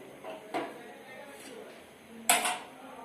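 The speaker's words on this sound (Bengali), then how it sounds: "কড়াই বসিয়ে দিলাম" A kadai is set down on a gas stove in a home kitchen, giving two short metallic clunks about two seconds apart, close by, with a faint voice in the background.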